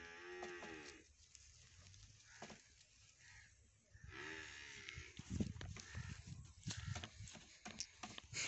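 Buffaloes and cows low in a village farmyard, a few drawn-out moos rising above rustling and shuffling, with a faint voice murmuring in the background.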